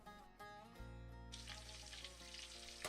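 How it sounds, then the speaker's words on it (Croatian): Meatballs (ćufte) frying in hot oil, a steady close sizzle that thickens into a dense hiss partway through, with a brief clatter near the start and a knock at the end. "Dok se ova prva grupa ćuftadi prži"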